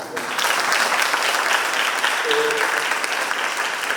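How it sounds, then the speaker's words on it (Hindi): Audience applause at a farewell gathering for a priest in Banaras, a dense, steady wash of many hands clapping throughout, loud and close, with faint murmuring beneath. "ताली तो बजती है।"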